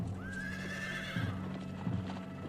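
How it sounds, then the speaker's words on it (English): Horses of a cavalry charge gallop over rough stony ground with steady clip-clop hoofbeats, a clear high whinny rising early and loud hoof clatters following, all close and without any voices. "Pizarro does indeed send out a cavalry charge to fend it off."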